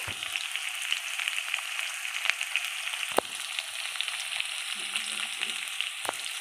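Food fries in a pan while being stirred with salt and turmeric, a steady close sizzle with scattered clinks and scrapes of the stirring utensil.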